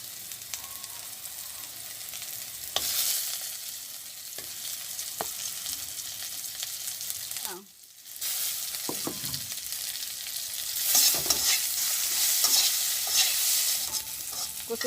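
Pieces of fish crackle and sizzle in hot oil in a pan, a steady loud hiss with occasional bright pops and a brief dip near the middle before the frying resumes, stronger and fizzier.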